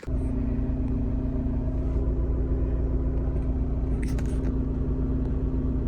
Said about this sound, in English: Stuck in some traffic here.